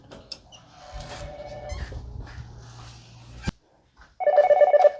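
A phone rings briefly near the end, a trilling electronic tone after a stretch of muffled household noise and a short silence.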